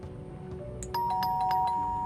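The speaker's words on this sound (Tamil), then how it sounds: "யார் அது காலிங் பெல் அடித்தா?" A video game doorbell chimes with bright ringing tones over a steady low background hum, the chime repeating in quick succession near the end.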